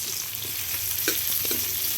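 Ginger, onion and garlic sizzle steadily in oil left over from frying tilapia, with a constant hiss and a few soft stirring clicks, no voices.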